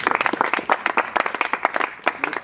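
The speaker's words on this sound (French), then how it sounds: "mais applaudissez pour eux" A small crowd applauds with a brisk, close patter of clapping that continues steadily without speech.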